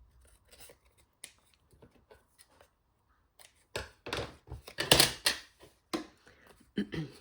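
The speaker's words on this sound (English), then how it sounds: "Fold that again." Scrapbook paper is folded and creased by hand in short, irregular rustles and crisp crackles, sparse at first and then denser and louder up close, with no voices.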